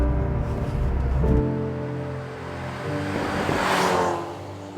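A Hyundai Veloster N with DCT gearbox cruising a winding road near Cheongpyeong Lake, its engine droning with a low rumble that shifts pitch, then a rising whoosh of road and wind noise as it moves past.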